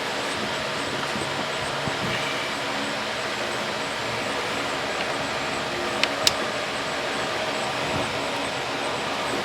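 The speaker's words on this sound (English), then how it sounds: "I apologize for the fan noise, but it is hot and humid." Steady broadband whir of an electric fan running in a hot, humid garage during timing chain work on a 1999 Grand Am 2.4L, constant throughout with a couple of brief faint clicks.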